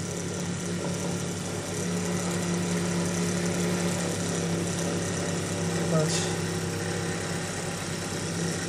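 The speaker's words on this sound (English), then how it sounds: "Fairly basic, simple oscillating simple cylinder engine." Peake Major simple oscillating single-cylinder model engine running, a steady, even mechanical hum and chuffing with a constant low drone, close by and continuous, with a brief word spoken partway through.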